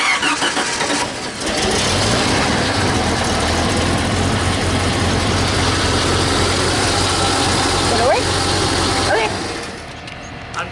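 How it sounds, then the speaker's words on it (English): The engine of a Jeep Comanche pickup under repair cranks and catches, then idles in a loud, steady rumble for about nine seconds before dropping lower, with people speaking over it. "So start it up and let's see."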